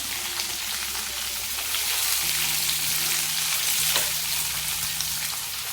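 Curry leaves and green chillies fry in hot oil in a pan for a cabbage dish, a dense, even crackling sizzle like rain on a surface that holds steady and close, with a faint low hum beneath.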